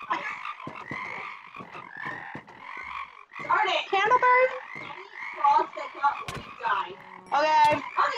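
Frogs croak in a Minecraft-style video game, a cluster of repeated, overlapping croaks that are loud and close, with voices talking over them in places.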